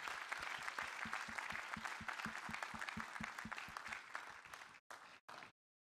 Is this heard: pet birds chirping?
no